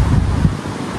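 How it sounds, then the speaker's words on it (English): Steady wind buffeting a microphone outdoors, a low rumbling roar that stays fairly loud and constant throughout, with no voices. "It's windy."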